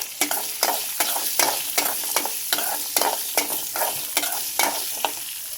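Unpeeled garlic cloves and green chillies fry in oil for a mint and coriander chutney, a loud close sizzle with a regular beat of spatula scrapes roughly every half second.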